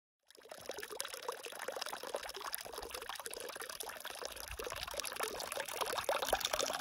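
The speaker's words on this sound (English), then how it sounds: "anywhere in the desert than water dripping into a tank" Water falling steadily into a desert cattle tank, a continuous close splashing pour and trickle that runs alone without pause for the whole stretch and grows slightly louder toward the end.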